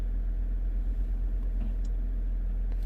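A Jeep Grand Cherokee with a faulty Quadra-Lift air suspension, its engine running at a steady low idle rumble close by, unbroken and even throughout with no talk.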